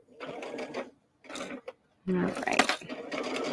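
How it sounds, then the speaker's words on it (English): Sewing machine stitching down the seam of a soft cuddle sack, running in short bursts with pauses between, close by, with a person speaking briefly over it. "Kind of get these to come along and sew all the way down."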